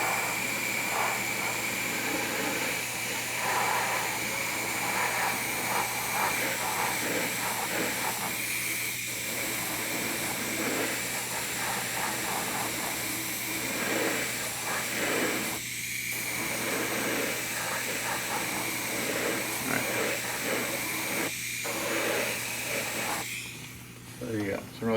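An airbrush sprays craft paint with a steady, loud hiss from start to finish, the flow sputtering at moments as it clogs, with a person talking over it.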